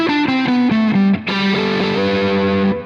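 Heavily distorted electric guitar through a chain of pedals: a descending run of sustained, saturated single notes, a brief break, then a thick, buzzing chord-like phrase ringing out loud and close.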